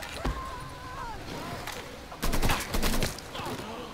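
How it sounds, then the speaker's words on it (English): Gunfire in the Mafia 3 video game, with a sharp single shot early and then a cluster of loud shots mid-clip amid game sounds, with a voice heard faintly underneath. "that guy got a lucky shot off"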